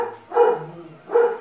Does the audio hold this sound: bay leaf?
no